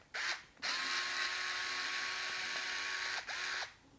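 A Hoto minimalist electric screwdriver driving a small PCB screw: a close, steady motor whine running for about three seconds between short start and stop bursts, with no voices.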